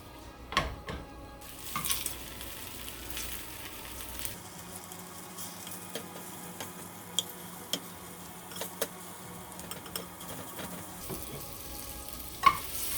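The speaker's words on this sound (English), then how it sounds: "after all these sides are seared" Pork sears in a hot pan as a steady, close sizzle lasting throughout, broken by occasional ticks and clicks of stirring against the pan.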